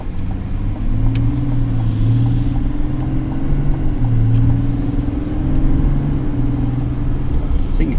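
A 2025 GMC Sierra 1500 Denali Ultimate diesel pickup truck's engine rumbles loudly, its pitch rising and shifting as it accelerates forward, with a steady low drone beneath.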